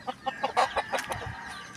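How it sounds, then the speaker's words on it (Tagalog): Chickens cluck in short, close bursts, several quick calls in an uneven rhythm, with a faint background of other fowl. "Aling kayang manok ang naitlog doon."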